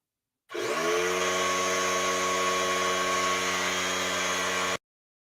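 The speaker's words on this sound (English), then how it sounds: "Why are you vacuuming?" A vacuum cleaner starts abruptly, runs at a loud steady whine with a strong droning tone for about four seconds, then cuts off sharply, with nothing else heard.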